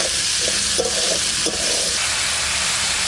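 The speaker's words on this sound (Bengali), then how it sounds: "এবার আলুটা ভেজে নেবো" Potatoes frying in oil give a loud, steady sizzle and hiss, with a few soft stirring scrapes near the start and no talk.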